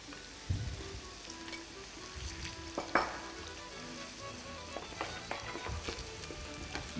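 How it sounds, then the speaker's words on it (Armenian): Chicken breast browns in a frying pan in a TV studio kitchen, giving a low, steady sizzle with a few soft stirring clicks and no talking. "Տապակի մեջ կեղևապատվում է կրծքամիսը"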